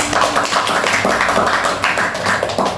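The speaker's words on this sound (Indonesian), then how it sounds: "Minta tepuk tangan dulu bang." A group of students claps together during a classroom group counseling session, producing a dense run of overlapping claps that holds steady for a few seconds at close range.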